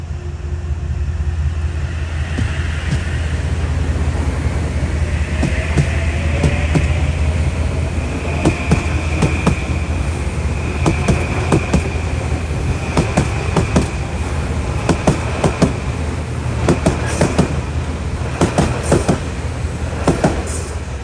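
A Metro-North New Haven Line train runs steadily between Greenwich and Stamford, Connecticut, with a continuous low rumble, rising wheel squeal tones and repeated sharp clacks and thumps over track joints and interlocking, growing busier toward the end.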